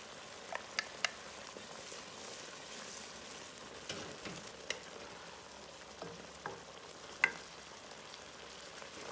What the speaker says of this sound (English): Then slowly add the egg. Let it cook without touching it.